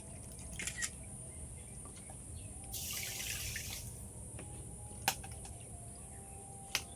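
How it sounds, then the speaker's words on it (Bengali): Water poured from a bowl into a pan of sugar for a sweet palm-fruit singara syrup, a soft splashing pour lasting about a second near the middle, with faint clinks and kitchen background around it. "আর এই বাটির মাপ করে আমি 2 বাটি জল দিয়ে দেবো।"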